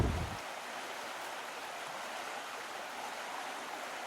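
The Sikajoki river in Finland flowing in an advanced spring thaw, a steady broadband rush of water heard alone at a moderate distance, with a brief low rumble at the very start.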